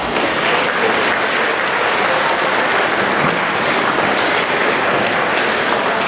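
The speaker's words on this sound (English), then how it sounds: "Give a big round of applause to cheer this wonderful event" Sustained, loud applause from a large crowd at the opening of an intercollegiate management fest, even and unbroken from start to finish.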